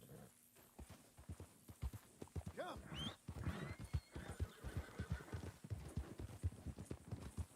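A horse pierced by arrows in a video game neighs sharply while its hooves clip-clop in a steady, close rhythm throughout, with a faint voice briefly in the background.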